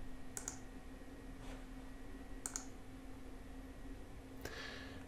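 A computer mouse clicks to save an import mapping in accounting software: a few light, close clicks spaced about two seconds apart over quiet room hum.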